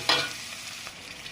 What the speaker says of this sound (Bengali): আমি পেঁয়াজ আচার ঝাল ভেজে নিচ্ছি